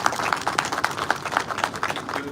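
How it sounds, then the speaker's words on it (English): Audience applause at a Diwali book launch event, a steady patter of many hands clapping with no voices over it, fairly close and even in level throughout. "Can we have a huge round of applause?"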